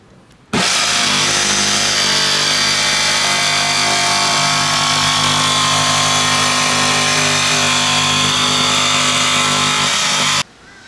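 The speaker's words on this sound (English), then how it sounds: "that will just help protect the finish of the paint on my roof from the bottom of the jigsaw when I go to cut" Jigsaw cutting through the painted metal roof of a camper van to open a hole for a roof vent fan, a loud, steady buzzing cut running for about ten seconds without a break, close by, with no talking.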